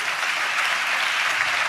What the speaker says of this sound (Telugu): చప్పట్లు కొడుతూ దేవునికి స్తోత్రాలు